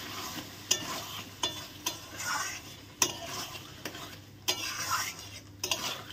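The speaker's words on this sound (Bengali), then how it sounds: "এখন ভালো করে নেড়ে দেবো।" A spoon stirs yogurt into chicken curry in a pan with a soft, steady sizzle beneath. Sharp clinks of the spoon against the pan land about once a second, close and moderately loud, with no voices.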